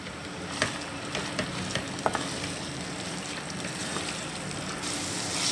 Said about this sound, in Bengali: মোচাটাকে 10 সেকেন্ড নেড়ে নেব।